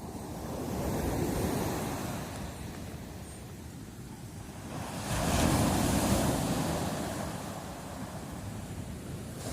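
Sea surf washing onto the shore at Erdemli on the Turkish coast in winter, two slow swelling waves rising and falling, with wind buffeting the microphone and no voices.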